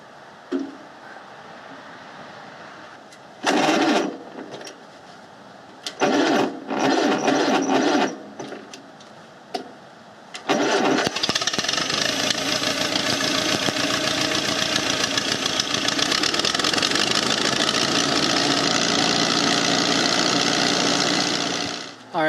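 A Farmall Cub tractor engine cranks in several short bursts, then catches and settles into a loud, steady, even-running idle that continues to the end.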